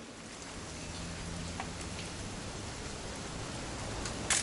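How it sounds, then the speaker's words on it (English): Steady rain falling in the video game What Remains of Edith Finch, a soft continuous hiss of drops without a break, ending in a brief sharper tap. "It's gonna rain the whole weekend,"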